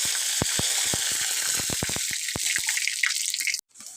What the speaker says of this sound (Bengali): দিয়ে দেবো আমি কাঁচা লঙ্কা কুচি, কড়ি পাতা কুচি, পেঁয়াজ কুচি সব দিয়ে দেবো।